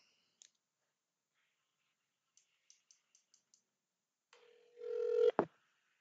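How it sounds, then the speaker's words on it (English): A number is dialed on a mobile phone for a call to an Amazon Connect helpline, giving a few isolated key tones, then a quick run of evenly spaced dial beeps, then a loud sustained connecting tone that ends in a sharp click. "Okay, so you won't be able to see I'm dialing from my mobile."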